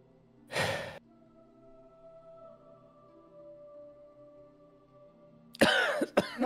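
Two bursts of coughing, a single harsh cough early on, then a rougher cluster of coughs after several seconds of quiet low hum.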